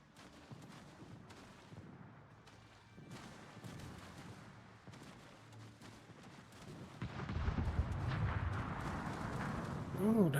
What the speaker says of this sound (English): As RWI's Ismail comes under secondary fire.